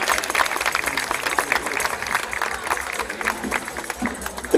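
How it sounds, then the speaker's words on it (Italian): Outdoor crowd at a folk group performance in Luzzi applauds steadily, a dense wash of many hands clapping at moderate volume, with faint voices mixed underneath. "facciamo un applauso a questo meraviglioso bimbo lì al centro"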